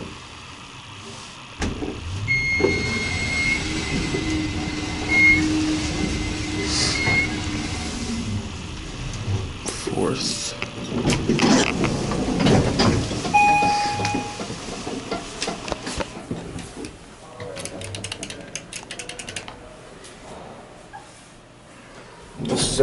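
An Otis traction elevator in an Embassy Suites hotel rises in a steady hum of motor and cab movement, with scattered clunks and faint tones from nearby, ending in louder door and mechanical noises.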